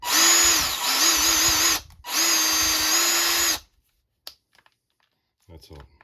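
Bauer 20-volt cordless metal shears run unloaded in two loud, steady whirring bursts with a brief pause between, followed by quiet handling clicks.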